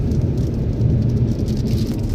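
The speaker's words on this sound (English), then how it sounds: "apparently we picked the one day of the year that there's rain" Rain falling near Moab, Utah, a steady, fairly loud wash of drops with a low rumbling undertone, continuous throughout and with no voices.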